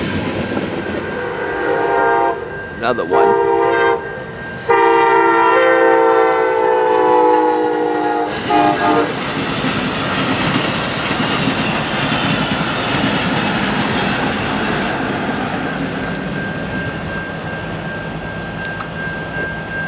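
A train passes nearby at Pine Junction with a loud blaring horn, then a continuous rolling rumble and clatter of wheels on rails; a voice briefly speaks.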